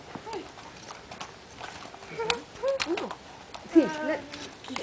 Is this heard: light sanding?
no